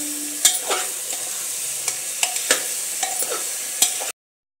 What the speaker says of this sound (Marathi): आता हे सर्व भाज्या आपण तेलामध्ये चांगल्या परतून घ्यायच्या 2-3 मिनिटं